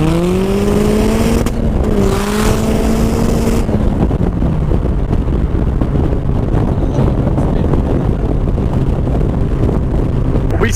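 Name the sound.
RX-5 250 car accelerating from 60 to 120 km/h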